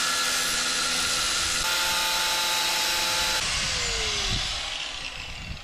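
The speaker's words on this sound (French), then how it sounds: "On va découper la barre" Power tool cutting through a metal bar, a loud high-pitched whining grind that holds steady, shifts pitch, then spins down and fades as the cut finishes.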